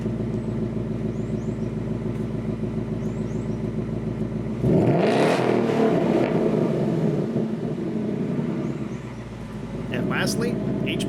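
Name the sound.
Mustang factory exhaust revving, track mode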